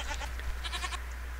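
A goat in a video game bleats in a few short, wavering cries, fairly close and clear over a low steady hum.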